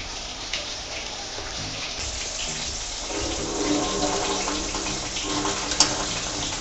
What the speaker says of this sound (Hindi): मम्मी इसको भी धोएंगे। अच्छे तरीके से मम्मी धो रहे हैं।